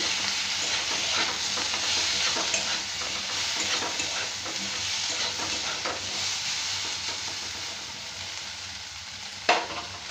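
Pieces of pointed gourd frying in a pan, a continuous close sizzle with occasional stirring scrapes and one sharper clack near the end, no one speaking.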